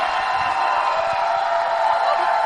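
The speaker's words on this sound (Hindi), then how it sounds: "तो एक बार जोरदार तालियों की जरूरत पड़ेगी" An audience at a seminar or talk cheers and claps to welcome a speaker, a loud, continuous crowd roar with whoops and shouting layered over scattered clapping.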